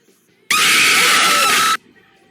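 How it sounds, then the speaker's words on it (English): Loud scream from the video game Citizen Sleeper, a single sustained harsh shriek lasting just over a second, bursting abruptly out of near silence and cutting off sharply. "That scream was so loud that I hope it didn't peak."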